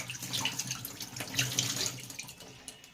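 Fruit is rinsed under a running kitchen tap, giving a steady close splash and gurgle of water with faint knocks as it is handled.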